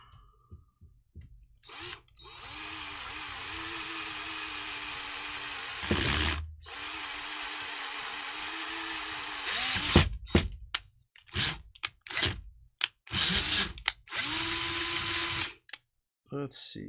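A power drill bores holes in the chassis of an original SCX10 RC crawler during a Pro CMS kit install, running in long steady passes and then a series of short, choppy bursts up close.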